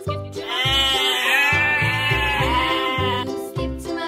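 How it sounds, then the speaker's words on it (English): A sheep bleats in a loud, wavering, nasal cry close by that lasts several seconds, with a steady low rhythmic beat pulsing underneath. "Sheep."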